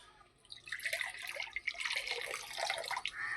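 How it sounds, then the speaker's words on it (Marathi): Water is poured into a cooking pot of vegetables with crushed peanuts, making a continuous splashing, trickling gush that swells and fades over a few seconds, close by with no talking. "पाणी टाकलं."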